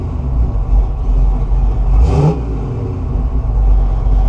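Engine of a 1969 Buick Special Deluxe, free of vacuum leaks, revs up and back down evenly in one smooth swell over a steady close idle, with no talking.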